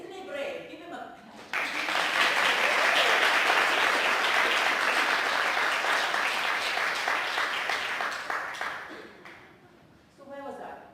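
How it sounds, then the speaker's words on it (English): An audience breaks into loud, sustained applause lasting around eight seconds, with many hands clapping together before it fades. A voice speaks just before the clapping starts and again as it dies down. "Give him a clap."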